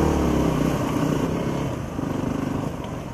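Dual sport motorcycle engine droning steadily and close on a muddy, root-covered trail in Alaska, its pitch dipping slightly midway as the bike rides on, with no talk.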